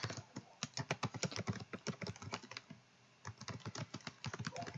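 Typing on a computer keyboard: quick, irregular bursts of crisp keystrokes, close and clear, with a short pause near the middle before the tapping resumes.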